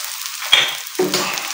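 A chicken patty sizzles on a hot griddle tawa over moderate heat, soft crackling frying with brief bursts of spatter across a short stretch, no talking.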